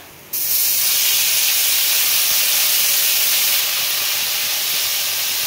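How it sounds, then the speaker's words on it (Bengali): Turmeric and onion paste hitting hot oil for a spicy crab curry, a sudden loud hiss that bursts in after a short quiet start and holds as a steady, dense sizzle to the end, with no talking. "তেলটা গরম হয়ে গেছে। প্রথমে একটু হলুদ দেবো আমি, এরপরে পেঁয়াজ বাটা"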